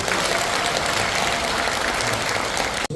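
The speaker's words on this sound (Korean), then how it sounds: "여러분께 다시 한번 큰 박수 부탁드립니다" A crowd gives loud, sustained applause at a People Power Party district convention in a hall in Yangcheon, Seoul, with steady dense clapping throughout that ends abruptly.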